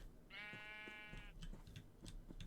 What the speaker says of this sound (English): Because of all the sheep. Come on, sheep. You can do it.